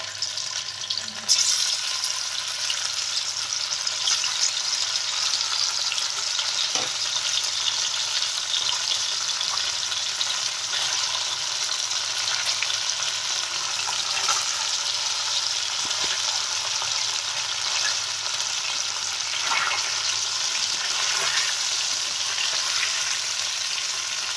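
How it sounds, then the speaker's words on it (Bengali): Paneer pieces frying in hot oil for a vegetarian dish, a steady even sizzle running the whole time with a couple of light clinks as pieces are added and turned, no speech. "তেলটা ভালো করে গরম হয়ে গেছে এর মধ্যে দিয়ে দেওয়া হচ্ছে একে একে পনিরগুলো পনিরগুলোকে জাস্ট একটুখানি ভেজে নিতে হবে"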